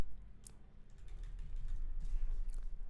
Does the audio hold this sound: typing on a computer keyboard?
yes